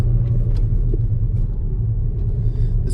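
Volkswagen MK5 GLI on the road, heard from inside as a steady low engine and road rumble, constant and fairly loud with no talking.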